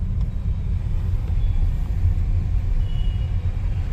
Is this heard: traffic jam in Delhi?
yes